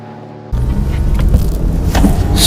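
A Toyota Solara convertible on the move gives a steady, fairly loud drone of engine and road noise that begins abruptly and holds constant, with no voices over it.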